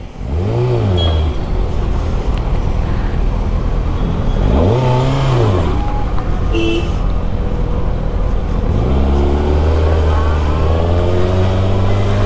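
A Kawasaki Ninja ZX6R motorcycle rides through Bangalore city traffic, its loud engine rising and falling in repeated revs over constant wind and road roar, heard close up.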